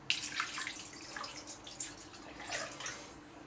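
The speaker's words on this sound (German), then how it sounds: "jetzt fülle ich das noch auf mit einem 1/2 Liter Apfelsaft" Apple juice being poured into a pan for oven-made pulled pork, a quiet trickling and dripping liquid sound with splashy bursts, fairly faint and alone with no talk.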